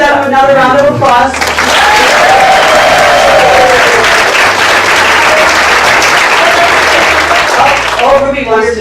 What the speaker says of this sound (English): So if you give them another round of applause.